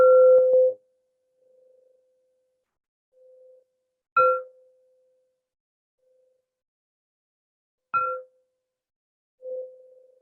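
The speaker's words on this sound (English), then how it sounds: "And we'll begin with the sound of 3 bells." Three meditation bells strike one after another at spaced intervals, each a clear ringing tone that decays slowly, with quiet gaps and faint resonance between strikes.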